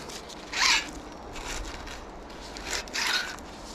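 Rim tape is peeled off a retro mountain bike rear wheel in a few short, close, dry ripping strips, with quiet pauses between them.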